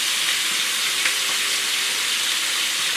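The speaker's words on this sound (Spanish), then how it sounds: "Sofreiremos todo junto, con el fuego un poco fuerte." Onion, leek and unpeeled, knife-scored garlic cloves sauté together in a pan over fairly high heat, giving a steady, close sizzle and hiss that runs unbroken throughout.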